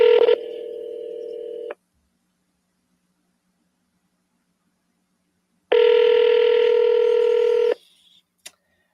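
Two telephone keypad tones sound during a call, a short beep followed by a longer one after several seconds of silence, each a clean steady dual-pitch tone heard close up with nothing else around.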